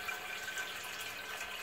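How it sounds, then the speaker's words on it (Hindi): Water runs steadily into a pot fitted with a stand for steaming while Arabian chicken mandi rice is made, giving a soft, even splashing hiss that stays faint throughout. "स्टैंड रखने के बाद इसमें मैं पानी डालूंगी।"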